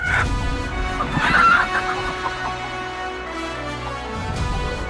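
A hen clucks and squawks in a royal court, with agitated calls early on over a low sustained musical tone and background score.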